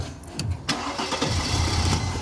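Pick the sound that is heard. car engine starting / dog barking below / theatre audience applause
car engine starting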